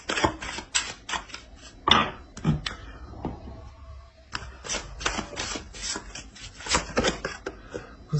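Tarot and oracle cards being handled and laid out, with a run of quick, close, crisp slaps and flicks as cards are shuffled and placed, uneven in rhythm with a short lull midway.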